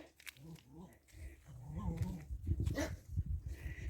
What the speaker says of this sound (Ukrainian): Сусідська собака.